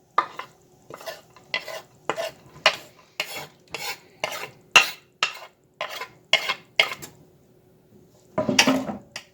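A whole onion is stirred in a cooking pot with repeated scraping strokes in a steady rhythm, close and fairly loud, with a busier clatter near the end and no talking.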